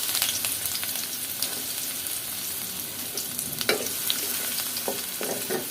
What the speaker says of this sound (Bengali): এখন এইটুকুন ব্রাউন কালার করে একদম পেঁয়াজ বেরেস্তার মতো করে ফেলবো